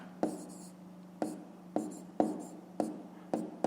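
A pen taps and scratches numbers onto paper in short strokes, about seven quiet, close, evenly spaced marks during a maths exercise.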